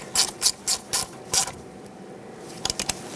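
A ratchet tightening a 10mm bolt on a brake hose bracket at the steering knuckle of a 2007-2014 Chevrolet Silverado 2500 HD, with five loud, evenly spaced clicking bursts, a pause, then a quick run of short clicks.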